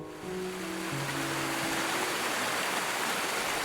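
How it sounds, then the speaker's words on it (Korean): A waterfall in a video artwork set in Cambodia's Areng valley, a dense steady roar of falling water swelling in, with a few sustained low tones fading out early on. "시원한 폭포 소리가 압도적인 이 영상은"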